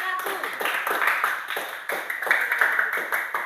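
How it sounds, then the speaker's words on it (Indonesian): A classroom audience claps for a student group after their presentation in a teacher-training practice session, with light, scattered applause and voices over it. "Berikan tepuk tangan untuk kelompok"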